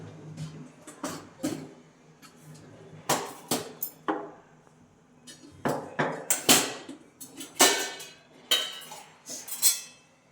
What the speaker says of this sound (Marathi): आणि याला छान मिक्स करून घ्यायचं आहे